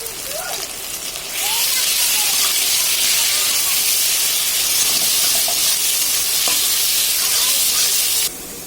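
Chicken frying and being stirred in a pan for chow mein: a loud, steady hiss of sizzling oil that starts suddenly, runs with soft scraping stirs, then cuts off near the end.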